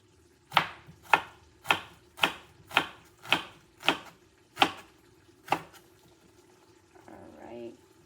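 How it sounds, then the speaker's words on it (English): A knife slices an onion on a cutting board for chorizo chili: nine sharp, evenly paced chops ring out close and clear, then fade into a soft, brief rustle at the end. "So let's cut it into little nice onion slices"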